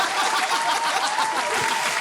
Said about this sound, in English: I'm clapping to